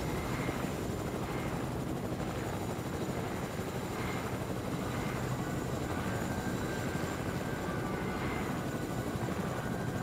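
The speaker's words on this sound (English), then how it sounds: "I'm already wrecking the chopper" A helicopter in the video game Fortnite drones steadily with a dense, continuous rotor and engine roar that stays loud and unchanging throughout, with no talking over it.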